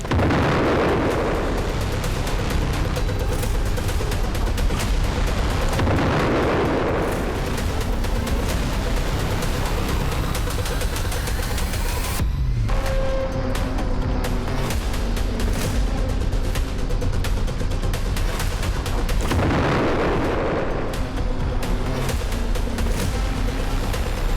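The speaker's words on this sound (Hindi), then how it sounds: "एक के बाद एक कई जोरदार धमाके होते हैं" Bombs dropped from a B-1 Lancer bomber land in a military strike, making a dense, continuous roar of heavy explosions that swells with several big booming peaks, loud and sustained throughout.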